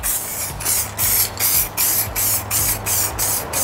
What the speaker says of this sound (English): I had a brand new can of a clear coat UPOL one, same cap on the top, so this should work a lot better